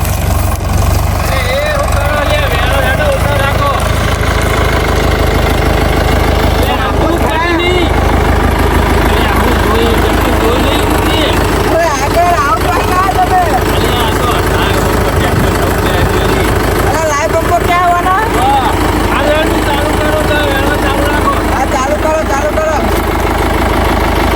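A tractor engine drones steadily throughout, its low rumble loud and continuous beneath frequent overlapping talk and voices.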